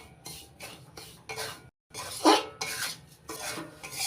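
Semolina lightly roasting in a pan for a ripe-mango halwa, stirred with a utensil that scrapes and knocks against the metal in repeated strokes, with a brief pause midway and no voices.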